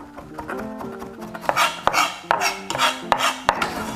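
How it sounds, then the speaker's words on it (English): Knife chopping ginger finely on a cutting board while preparing trout tandoori, a run of crisp close taps and knocks growing faster and sharper, with faint clinking kitchenware underneath. "just going to chop that up nicely so that we get it quite finely chopped"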